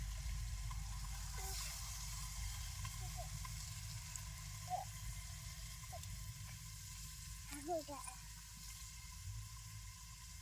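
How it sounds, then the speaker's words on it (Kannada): Fish pieces frying in hot oil give a steady low sizzling bed throughout, with a few brief clinks and bursts of higher crackle near the middle and end. "ಉಳಿದ ಮೀನುಗಳು ಇದೇ ರೀತಿ ಎಣ್ಣೆಗೆ ಫ್ರೈ ಮಾಡಿ ತಕೊತೀನಿ ರೀ"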